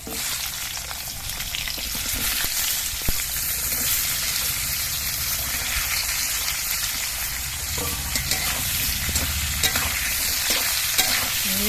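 Potatoes and vegetable stems fry in hot oil with green chilies and black cumin in a pan, a steady loud sizzle broken by scraping stirs of a spatula.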